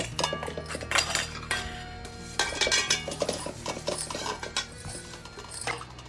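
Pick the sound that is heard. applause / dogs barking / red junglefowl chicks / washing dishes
washing dishes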